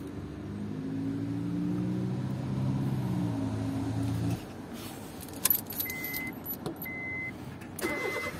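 Car engine cranking on a jump-started dead battery: a long labored churning crank, then it catches and settles into a quieter idle, with some clicks and rattles near the end.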